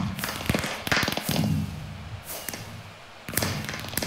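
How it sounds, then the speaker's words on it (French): Fireworks go off over a city in a city-building video game, a string of sharp pops and crackling bursts with thuds, loud and close, with a brief bit of talk mixed in. "Ah, là, normalement, il y a des feux d'artifice."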